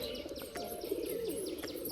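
Pigeons cooing on a rooftop near a pigeon loft, soft low coos mixed with light chirps, fairly close and continuous over a faint outdoor background.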